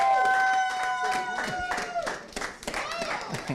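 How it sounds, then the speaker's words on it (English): Scattered clapping from a small audience, mixed with voices and chatter, fairly close and moderately loud. "Please, a round of applause for her."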